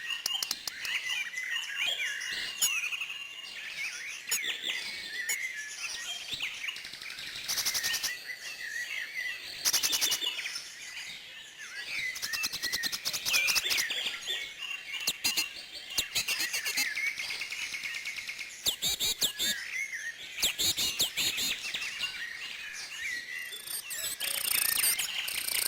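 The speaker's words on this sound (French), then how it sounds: "j'ai pu filmer différentes espèces d'oiseaux et même des assez rares dans notre région" Garden birds sing and chirp almost without pause, several overlapping high trills and tweets, fairly close and bright, with insects buzzing faintly underneath throughout.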